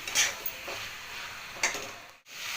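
Spice paste for chicken keema stir-frying in a pan over raised heat, a soft steady sizzle broken by a few scraping stirs and brief clinks, close and fairly quiet, with no talking.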